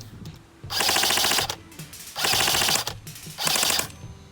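A G&P M16A1 airsoft rifle fires three long full-auto bursts of rapid, evenly spaced clacking shots, close and loud, with brief pauses between bursts.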